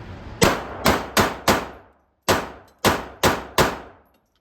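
Eight sharp gunshots from a Keltec P-32 pistol emptying a full magazine, fired in two quick bursts of four with a short pause between, loud and close with no talk.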